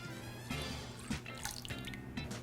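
Milk poured from a measuring cup into a mixing bowl holding a cracked egg, a thin, close liquid stream trickling and splashing steadily for a couple of seconds, with small drips near the end.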